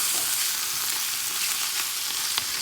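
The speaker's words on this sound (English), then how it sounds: "And just gonna let that steak just sit there and sizzle." A flat iron steak sizzles in a cast iron skillet with a steady, close hiss of frying fat and a faint tick or pop near the end.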